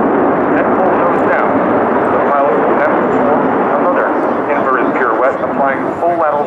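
A US Navy F/A-18 Super Hornet jet flies a solo display at the RIAT Fairford air show, its engines giving a loud, continuous roar throughout, with a voice faintly audible beneath it.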